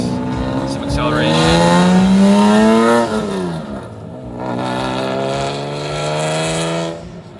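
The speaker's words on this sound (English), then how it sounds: "So we got a original NSX here. Let's see if he'll give us some acceleration." An original Honda NSX accelerates at a small car meet, its engine note climbing steadily, then easing off and rising again. The car sounds loud and fairly close, with people talking nearby.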